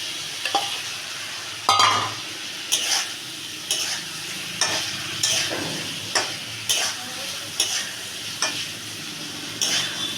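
Fried eggs being stirred into frying masala for egg curry, the spatula scraping the pan in a regular rhythm of close strokes about once a second over a continuous oily sizzle.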